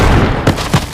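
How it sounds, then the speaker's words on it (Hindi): Loud gunfire in a forest, as a staged sound effect in a horror audio drama: a couple of sharp booming reports in quick succession over a dense, reverberant rumble. "गोली चलने की आवाज पूरे जंगल में गूंज उठी।"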